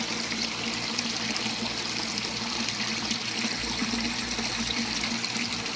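Water pours steadily into a new garden pond, a continuous rushing splash and trickle heard close and alone without pause.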